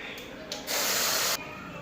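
Ground masala paste hits hot oil with cumin seeds, giving a sudden loud hissing sizzle that lasts under a second before dropping back to a softer background crackle; close and brief.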